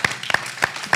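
Scattered audience clapping at a New Jersey Attorney General public event: a few distinct, sharp claps spaced irregularly, close and crisp, with quiet between them.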